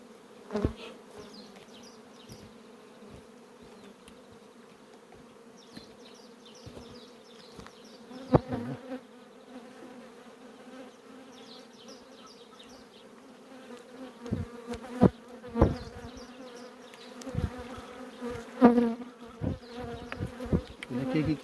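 Honey bees buzz steadily during a beehive transfer, a dense continuous hum with occasional nearby knocks and handling clatter that grow busier toward the end.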